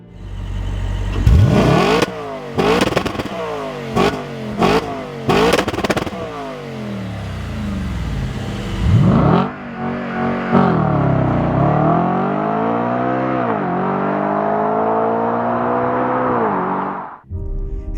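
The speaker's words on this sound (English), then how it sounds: "the engine sound creates almost a dreamy feeling and you notice yourself smiling" An Audi RS4 Avant B8.5 with a naturally aspirated 4.2-liter V8 gives several sharp, loud throttle blips, then pulls through long rising acceleration sweeps up close before cutting off abruptly.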